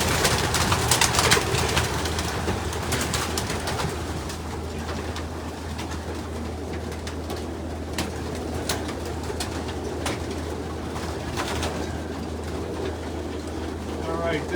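Pigeons coo throughout a crowded loft of about 860 birds, a dense, continuous murmur of low throaty calls with wing flutters and rustling, and a person speaks intermittently over it.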